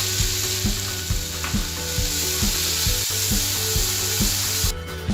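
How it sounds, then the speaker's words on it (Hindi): Onion paste sizzles steadily in hot oil in a pan for an Indian egg curry, a continuous close frying hiss with a regular rhythmic scraping or stirring beat throughout, no voices. "अब मैं इसमें प्याज का मैंने पेस्ट बनाया है वो पेस्ट डाल रही हूँ,"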